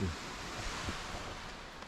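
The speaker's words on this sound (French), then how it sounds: "Le bruit des vagues est apaisant." Waves wash steadily onto the south beach of Forillon park, a broad, even surf roar with a gentle swell at the start and light wind buffeting the microphone.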